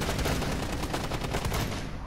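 Rapid gunfire in the video game Rainbow Six Siege: a loud, dense stream of closely spaced shots crackles for nearly two seconds, then cuts off abruptly, with no talk over it.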